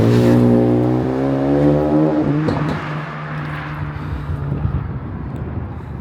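Car with a homemade exhaust system passing on a road: a loud, rising rev swoops past close by, then fades into a receding, rumbling drone with some wind noise.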